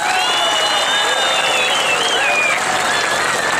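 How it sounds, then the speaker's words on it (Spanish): Crowd applause at a village festival concert and bullfight for Santiago Apóstol in Cuautepec, Guerrero, sustained and dense throughout, with a loud voice over the PA running above the clapping. "Aplausos para la pareja número tres."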